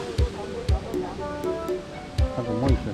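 The waterfall at Takachiho Gorge sends up a continuous rushing wash of water in the background, while people talk close by with a few knocks and thumps.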